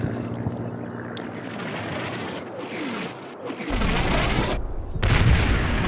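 Gunfire and artillery in the Combat Mission: Red Thunder war game, a dense roar of distant shots and booms building up, with heavier blasts rumbling in the last seconds, loud and without talk.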